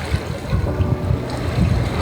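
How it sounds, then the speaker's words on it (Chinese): Sea waves washing against the coast at Kaş, Turkey, with a continuous low surge and wash mixed with gusty wind noise on the microphone, close and moderately loud. "听着海浪声"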